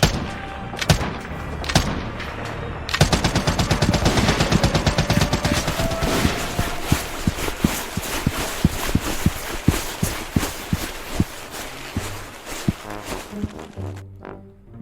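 Rapid bursts of automatic gunfire crackle and rattle, sustained and loud, with scattered single shots and thuds trailing off near the end.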